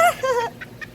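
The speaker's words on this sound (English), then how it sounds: "Whoa, look at that rooster." A prize-winning rooster at a carnival farm gives a short, high, wavering crow up close, followed by a couple of soft, faint clucks.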